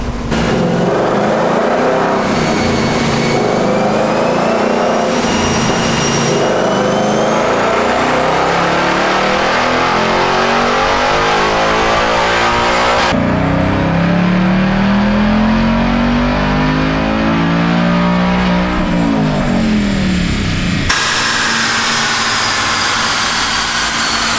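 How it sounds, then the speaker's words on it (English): A Ford Mustang Dark Horse with a six-speed manual makes a dyno pull in fourth gear. The engine roars loudly and continuously, rising in revs over a long pull, then drops off and picks up again near the end. "I'm going to do one more pull in fourth gear and then go right into fifth gear."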